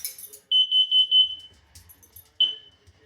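A household smoke alarm under test lets out a rapid run of about eight piercing beeps, then a short pause and one more shrill beep, with faint rustling in between.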